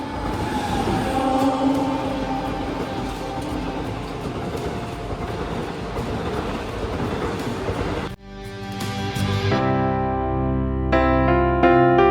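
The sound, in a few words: train at railway platform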